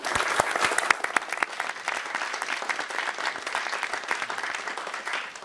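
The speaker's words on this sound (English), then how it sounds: "I would like, before I start, to give a small hand of applause to Ray Bradbury." An audience at a briefing on the Curiosity rover mission gives a round of applause in tribute to Ray Bradbury: dense, steady clapping from many hands, fairly close, tapering slightly at the end.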